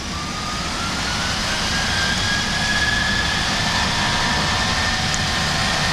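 An Ethiopian Airlines Boeing 737 at takeoff thrust leaving Addis Ababa, its jet engines roaring loud and steady from the cockpit, a thin rising whine sweeping upward through the constant broadband rumble.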